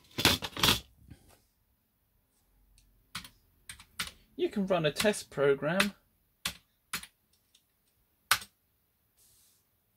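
Keys clatter on a restored Commodore Plus 4 home computer keyboard, a run of close, crisp taps and a few isolated clicks, interleaved with someone talking.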